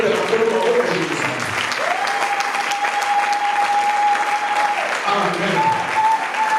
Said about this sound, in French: Est-ce que nous pouvons acclamer le Seigneur?